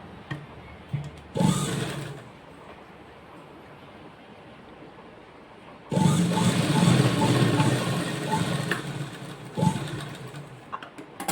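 A sewing machine stitches a small Barbie frock with lining cloth in two bursts of steady, rapid mechanical whirring. The first burst is short and the second runs longer, loud and close, with quiet handling between them.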